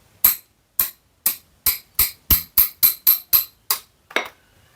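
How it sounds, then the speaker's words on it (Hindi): A hammer taps to loosen the magnet coil on an Apache RTR 200 motorcycle: about a dozen sharp, evenly spaced metallic knocks, close and loud, with nothing else heard. "तो हथौड़ा की मदद से आपको भी अगर टाइट फील हो रहा है तो आप ठोक सकते हैं, पर आराम आराम से, ज़्यादा जोर से भी मत ठोकिए।"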